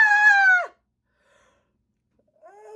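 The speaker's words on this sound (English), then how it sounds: "then we're going to yawn" A voice gives a drawn-out yawn with a falling, breathy tone, then goes quiet. Another low, sighing yawn begins just before the end.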